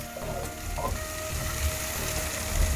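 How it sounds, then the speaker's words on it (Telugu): Chopped tomato frying in a pan for a quick dosa side, a dense steady sizzle with faint scraping from stirring, close and continuous with no voices. "టమాటా పచ్చి వాసన పోయేంత వరకు ఫ్రై చేస్తే సరిపోతుంది."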